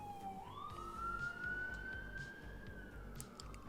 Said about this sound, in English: I live near a hospital and there's so many sirens